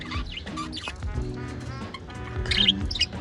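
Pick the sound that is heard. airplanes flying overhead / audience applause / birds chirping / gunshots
birds chirping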